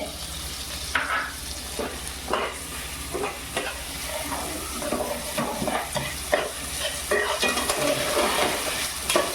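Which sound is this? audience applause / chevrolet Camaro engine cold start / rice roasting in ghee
rice roasting in ghee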